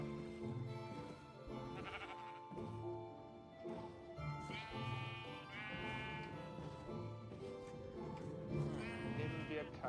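Sheep bleat repeatedly in the Minecraft video game at a wool farm, several short wavering cries scattered through the passage, heard under someone talking in German and game background sounds.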